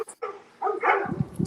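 Dogs bark and yip close by in a home during a livestream, in a few short bursts with brief gaps between them and no speech.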